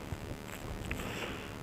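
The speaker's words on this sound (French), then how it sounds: "il y a une péniche qui arrive" A barge approaches on a river, a faint low engine rumble blended with gusting wind noise, steady and fairly distant.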